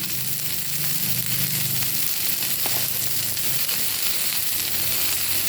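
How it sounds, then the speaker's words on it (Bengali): Cauliflower frying in a covered pan gives off a steady, dense sizzle that stays even and fairly loud throughout, with faint low bubbling underneath and no voices. "এটা আমি ঢাকা দিয়ে দিয়ে ভেজে নেব"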